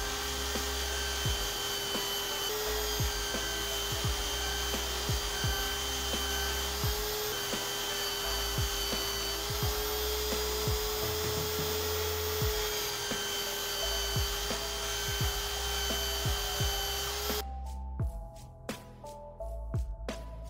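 A belt grinder fitted with a finer belt sharpens a splitting axe, a loud, steady whine with repeated scraping contact, then it cuts off near the end.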